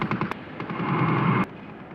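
Rapid bursts of World War I gunfire at the Battle of Verdun crackle in quick succession, loud and close, with a couple of sharp cracks standing out over a rumbling battle din.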